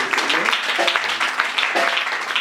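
A church congregation applauds during a French-language worship service, with brisk, dense clapping and scattered voices and cheers mixed in throughout.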